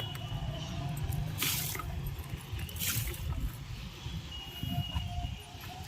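Water poured onto rose plants in a garden, a steady soft splashing and trickling with two brighter gushes partway through, close and fairly quiet with no speech.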